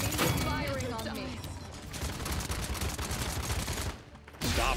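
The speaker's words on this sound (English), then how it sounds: "Enemy firing on me." Rapid bursts of enemy gunfire in a video game rattle through dense, loud volleys alongside clanking mechanical sounds, with a brief lull near the end before another sharp shot.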